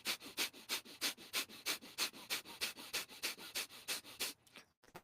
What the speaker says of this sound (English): like breath of fire